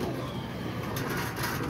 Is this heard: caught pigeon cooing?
yes